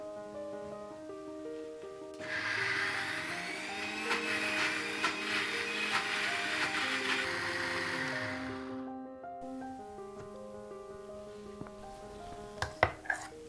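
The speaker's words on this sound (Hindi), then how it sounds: "अब हम इसे पीस लेते हैं।" An electric mixer grinder runs loud and steady for several seconds as it grinds drained, soaked urad dal into a smooth paste for dahi bhalla, then cuts off, leaving a quieter kitchen with a few sharp clinks near the end.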